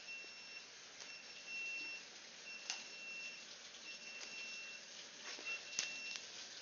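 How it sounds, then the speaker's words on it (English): A low-temperature alarm on an aquarium beeps somewhere in a room during a water change, giving faint, thin repeated tones and short beeps over a quiet background hiss, with occasional soft clicks. "We have a low temp alarm going off somewhere"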